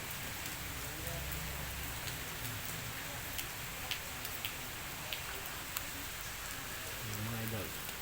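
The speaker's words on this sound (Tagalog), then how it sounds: "Ulan ang panahon." Steady rain falling outdoors, a dense continuous patter with scattered sharper drips and ticks throughout, with a few low voices briefly heard in the background.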